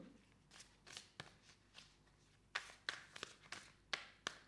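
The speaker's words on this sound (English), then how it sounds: "So, I want to get some oracle cards for you." Oracle cards being shuffled by hand, a series of soft, close riffling and slapping bursts in an irregular rhythm against a quiet background.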